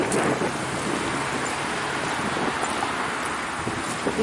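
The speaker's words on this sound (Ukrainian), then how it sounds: "Ой, який вітер." Strong wind roars steadily outdoors, a broad continuous rushing noise buffeting the microphone, with no voices present; windstorm in Kyiv strong enough to knock down trees.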